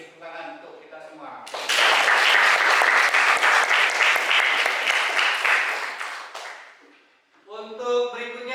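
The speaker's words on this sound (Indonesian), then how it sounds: "sekali lagi beri tepuk tangan untuk kita semua" Classroom applause breaks out suddenly and holds as a dense, loud wash of clapping for several seconds, then fades out. Voices talk just before the applause and again right after it.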